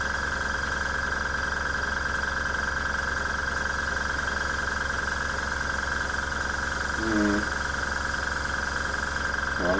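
A budget airbrush air compressor runs with a steady, continuous motor hum and drone, its level even throughout with a brief rattle near the end.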